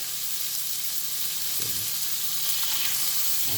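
Steak sears in butter in a cast iron pan on the lowest heat, a constant bright sizzle with a couple of soft low thumps as the meat or pan is moved.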